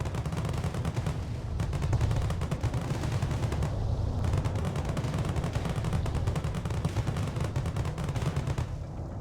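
Rapid automatic bursts of spaceship gunfire crackle nonstop through a top-down space shooter game, a dense rattling stream of shots with a brief gap partway through.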